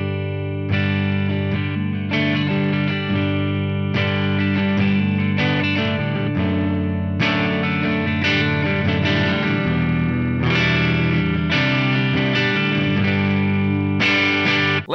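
An electric guitar on its neck pickup runs through an Axe FX3 modeling a stock-set Bandmaster amp, playing loud, sustained, distorted chords and riffs with rich harmonics and short pauses between phrases.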